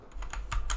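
Keyboard shortcut keys pressed to copy and paste, a few crisp key clicks in quick succession, close and fairly loud with no talking.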